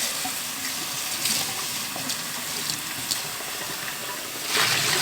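Water is splashed and rinsed through a tray used for germinating seeds, giving a steady hissing wash with small splashes and a louder gush at the very end. No voices are heard.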